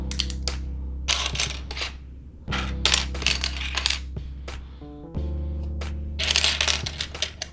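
LEGO click hinge pieces from a Kylo Ren TIE Fighter set snapping and clattering together on a table: a rapid run of sharp plastic clicks and taps, close up, over a low steady hum.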